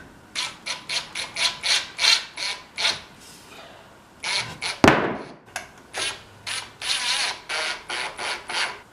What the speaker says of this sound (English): Alright, so now we're going to screw it to it.